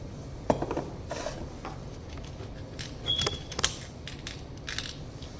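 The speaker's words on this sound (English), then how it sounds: "now we take our new key and we throw the pins in" Small metal lock pins drop into a lock cylinder during rekeying, giving scattered light clinks and taps with a brief metallic ring, close and quiet.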